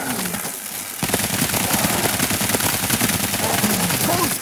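An auto turret in World War Z Aftermath rattles off fast, evenly spaced shots in a loud, sustained burst of machine-gun fire that runs almost the whole time after a brief quieter start.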